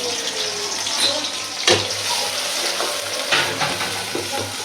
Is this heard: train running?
no